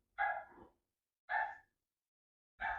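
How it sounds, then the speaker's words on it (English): A seven-week-old Giant Schnauzer puppy gives three short, high, yappy barks spaced about a second apart, clear and fairly close against silence. "she's barking over there"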